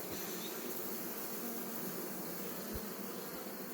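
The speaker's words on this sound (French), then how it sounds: "un essaim qui va partir au rucher comme tous les autres de cette année" A swarm of honeybees rescued from a building site hums in a steady, dense drone that holds constant and close throughout, with no talking.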